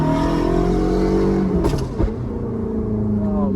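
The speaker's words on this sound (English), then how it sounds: "Oh man, that backfire sounds so good" Ferrari F430 V8 engine revving loudly up close, a sustained harmonic roar broken by sharp exhaust backfire pops around the middle before the engine pulls again.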